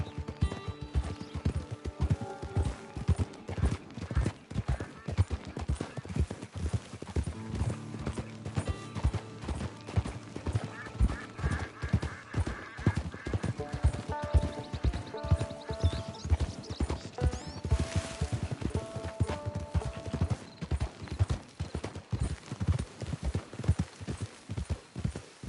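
Horse hooves clip-clopping in Red Dead Redemption 2, a steady rhythmic trot of sharp close hoofbeats continuing throughout under soft game music, with no talk.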